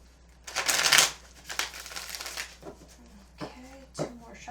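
Tarot cards are shuffled close up in a loud riffling burst, then several shorter shuffles follow while someone talks softly.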